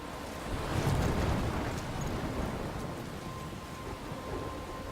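A stormy scene in the Life Is Strange video game: rolling thunder and crashing waves under a steady roar of wind and rain, loudest early on and then holding as a dense, continuous wash.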